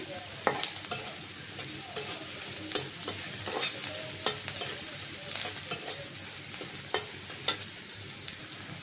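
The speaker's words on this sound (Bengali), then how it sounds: "ভাজা হয়েছে পেঁয়াজ আর চিংড়ি মাছ" Onion and shrimp stir-fried in a pan, a constant bright sizzle broken by frequent quick spatula scrapes and taps against the metal, close and fairly quiet, with no talking.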